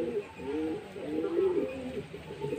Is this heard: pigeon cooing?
yes